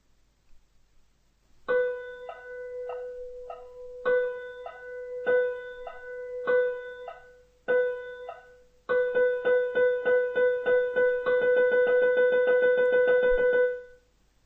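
A short music example plays alone, bright struck notes arriving in spaced groups that later quicken into a dense, even run, with a metronome's steady clicking faintly marking time underneath.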